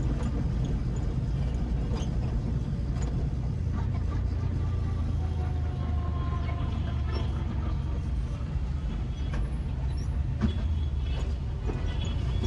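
A car drives along a city road past the Nashik Phata junction toward Yerwada, a steady, close engine and tyre rumble throughout with faint creaks and no talking.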